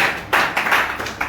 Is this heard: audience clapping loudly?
yes